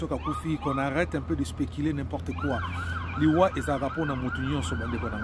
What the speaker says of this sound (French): En fait, c'est une ambulance qui est en train de passer.